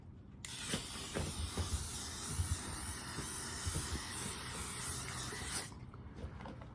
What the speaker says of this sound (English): we're going in with the L'Oreal Infallible 3-second setting mist